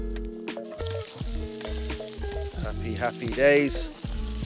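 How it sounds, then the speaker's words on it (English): Potatoes fry in bacon fat in a pan with a close, steady sizzle and crackle while someone talks over it. "we're going to use the fat then to fry off our potatoes"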